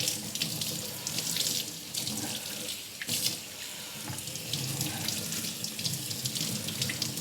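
Tap water pours and splashes steadily over a stainless steel deli meat slicer tray being rinsed under a faucet, close and continuous with shifting splatter.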